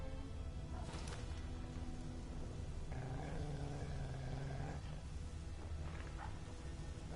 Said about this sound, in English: Wait, dog's growling.